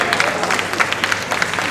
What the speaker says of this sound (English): Standing ovation, round of applause, round of applause, round of applause.